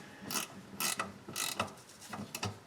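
A stubby ratcheting wrench clicks in quick bursts while backing out the differential cover bolts on a Chevy Colorado rear axle, close and fairly quiet with short pauses between strokes.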